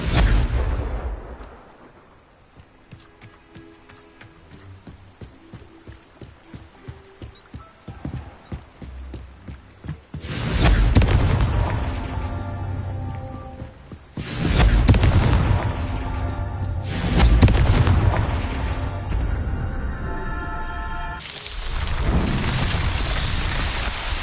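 Confringo fire spell explosions in Hogwarts Legacy: several loud, booming blasts burst out one after another, following a stretch of clip-clopping hooves.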